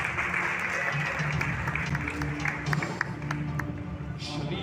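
Applause and clapping from a congregation at a Sunday church service conference, a steady crowd wash that holds throughout with voices mixed in.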